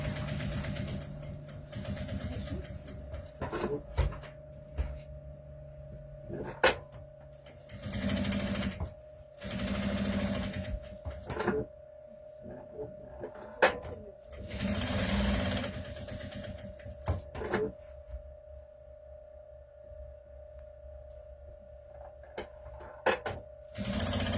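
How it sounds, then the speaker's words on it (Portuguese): A sewing machine stitches along the edge of a small pocket on doll clothing, running in several short bursts of steady whirring separated by pauses, close and fairly loud. "vendo costurando só pela pontinha, eu vou alargar um pouco mais meu ponto aqui"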